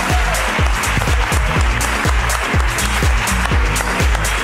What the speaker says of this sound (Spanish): ¡Aplauso para la ruina de Manuel!